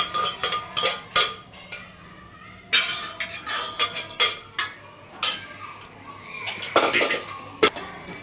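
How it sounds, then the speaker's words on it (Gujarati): A spoon scrapes and clanks against a cooking pot while stirring a gravy curry of chori beans, a series of close, irregular metallic knocks and scrapes with quieter sizzling between them. "ચાલો થોડું હલાવીને પછી એને પાછું ઢાંકી દેવાનું રહેશે ને"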